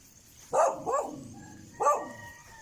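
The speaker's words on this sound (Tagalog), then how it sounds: "Hinabol kami ng aso." A chasing dog barks three times nearby along a highway in Tanay, two quick barks and then one more after a short pause, in an otherwise quiet setting.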